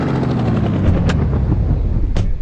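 A helicopter's rotor in the video game Indian Bike Driving 3D thumps in a rapid, steady beat, loud and close, with a couple of brief sharp bursts cutting through.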